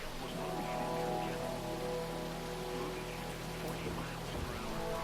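Heavy rain with large hail pours steadily in a Roblox Twisted storm, a dense, even hiss of drops with low rumbling beneath, soft and continuous throughout.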